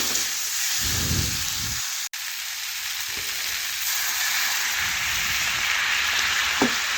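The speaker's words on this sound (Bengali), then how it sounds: "এখন আমি একটু পরিমাণ মতো জল দিয়ে দেব।" Water poured into a pan of fried spices on a clay stove, sizzling and hissing steadily and fairly loud throughout, with a brief stir and clatter near the start.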